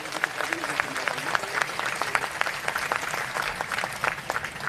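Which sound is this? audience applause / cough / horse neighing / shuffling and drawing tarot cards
audience applause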